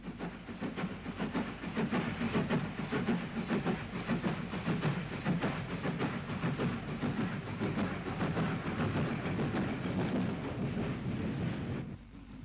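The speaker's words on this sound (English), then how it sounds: "A WT climbs away from the station with a Belfast to Dublin train." A WT class steam locomotive climbs away from a station hauling a Belfast to Dublin train, its steady rapid exhaust beats and hiss continuing at moderate distance before cutting off abruptly at the end.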